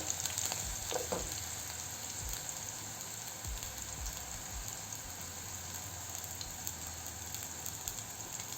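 Green chilies sizzle in hot oil in a pan while being stirred, a close, steady frying crackle with occasional scrapes and clicks from the stirring, no voices.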